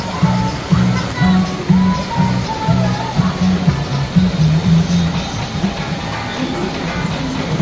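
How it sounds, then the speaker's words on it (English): Steady broadband rush of churning water on the River Rapids ride at Drayton Manor theme park, continuous and fairly loud, with a voice talking over it throughout. "So I've just ridden the River Rapids"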